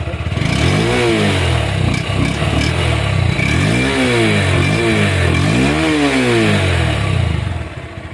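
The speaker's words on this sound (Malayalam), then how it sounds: "നമുക്ക് ഏതായാലും അപ്പോൾ വണ്ടിയുടെ നിലവിലുള്ളൊരു എക്സോസ് നോട്ടും കാര്യങ്ങളൊക്കെ ഒന്ന് കേൾക്കാട്ടാ" Close, loud exhaust note of a Honda Hornet 2.0 BS6 motorcycle revving repeatedly, several rising and falling throttle blips over a steady idle rumble, with no talking.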